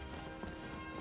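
A horse's hooves clip-clop in a quick, steady run during a Skyrim Ironman Challenge, a brief stretch of muffled beats under a low game ambience.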